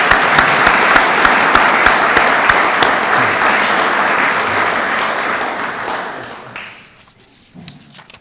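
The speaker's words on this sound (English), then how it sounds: "Let's give a round of applause for those award winners." Sustained loud applause from an audience at the Boardman civic awards, honoring award winners, steady and dense before tapering off into quiet near the end.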